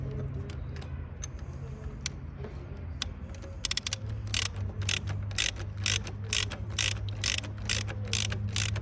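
A hand ratchet tightens the original bolt on a Yamaha Tracer motorcycle side stand, giving a steady run of sharp, close clicks that grow louder and more regular partway through over a low background hum.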